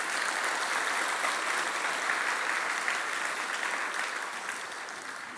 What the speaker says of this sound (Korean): 뜨거운 박수로 격려해